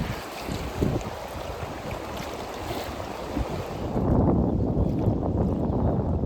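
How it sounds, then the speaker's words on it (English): One-handed paddling of a canoe or kayak on open water, with splashing and sloshing water around the hull under steady wind noise, the water growing louder near the end. "I'm paddling one-handed here, and I seem to be doing okay."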